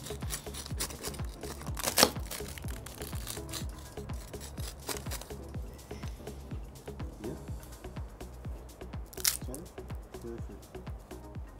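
Crispy pizza crust from a Big Green Egg crunching and crackling up close in steady repeated bursts over several seconds, with a couple of sharper snaps.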